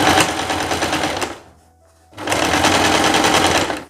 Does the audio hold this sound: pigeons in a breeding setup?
no